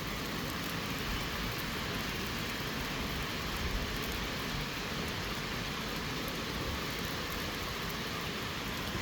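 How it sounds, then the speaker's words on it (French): Small hail falling during a violent thunderstorm, a continuous dense hiss of pellets striking surfaces, steady and fairly faint without distinct individual impacts. "Il y a de la grêle! De la petite, hein, c'est vraiment de la petite grêle"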